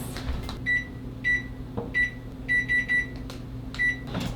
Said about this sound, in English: Wait, first I need to preheat the oven.